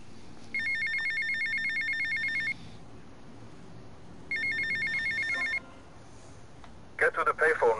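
A payphone rings in GTA Vice City in two long electronic bursts separated by a pause, loud and clear, and a short burst of game sound follows at the end.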